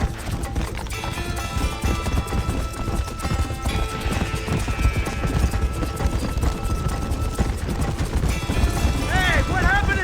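Horses gallop in Red Dead Redemption, a dense rhythmic clip-clop of several mounts running continuously and close, under swelling music with a brief whinny near the end.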